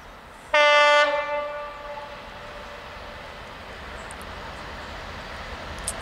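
A Freightliner class 66 freight locomotive, 66566, passes Gipsy Lane level crossing. A loud, sustained multi-tone horn blast is followed by the steady rumble and clatter of the wagons rolling past nearby.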